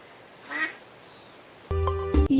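Cartoon duck quacking in an animated show: a short nasal quack, then after a pause a louder, brighter burst of harmonic quacks near the end, with no talking.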